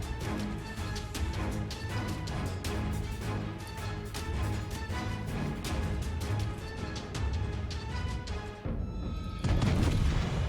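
Heavy gunfire from battleship main batteries in the naval game World of Warships, a continuous rumbling barrage of booms layered with music, ending in a sharp burst of louder blasts.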